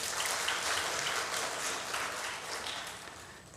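Congregation applause during a Sunday church service on Teachers' Sunday, a steady wash of many hands clapping together that holds strong throughout and tapers off slightly toward the end, with no talking.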